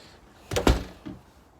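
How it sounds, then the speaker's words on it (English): A house door swings shut with two quick close thumps, then a softer knock a moment later as it settles, heard alone and fairly near against a quiet background. "close the door here."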